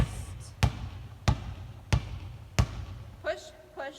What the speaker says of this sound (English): see if I can dribble continuously with my non-dominant hand